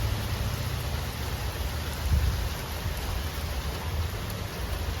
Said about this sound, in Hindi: जन्माष्टमी में बारिश